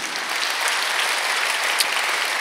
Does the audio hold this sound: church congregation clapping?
yes